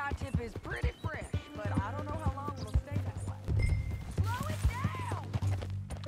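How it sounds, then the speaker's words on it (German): Horse hooves clip-clopping in the video game Red Dead Redemption 2, a steady rhythmic trot heard under ongoing character dialogue and background music. "Also Sadie, dein neues Pferd scheint ja nicht sehr schnell zu sein, ey."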